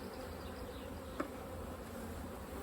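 A dense, even drone of honey bees at a hive carries on throughout, with one brief sharp tick partway through and no talking.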